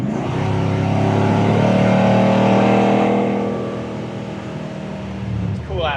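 A 1970 Chevelle restomod cruises down the road, its engine note a loud, steady drone that eases off after a few seconds before rising again, with people talking over it.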